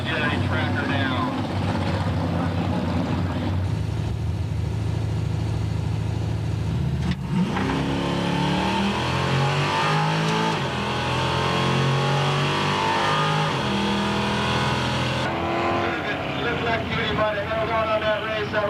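Drag racing with a 1970 Plymouth Cuda: loud engines rev and roar past, swelling and shifting pitch as the cars run, while an announcer talks over the noise.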